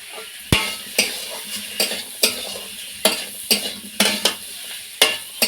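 Potatoes fry with cumin, coriander and chilli powder in a pan, a steady sizzle broken by about a dozen sharp, regular spatula scrapes and knocks against the metal, close and fairly loud.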